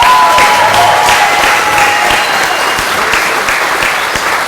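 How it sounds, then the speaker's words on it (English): A room full of attendees at a Chamber of Commerce annual meeting breaks into loud, dense applause, sustained clapping filling several seconds with no voices over it. "huge round of applause"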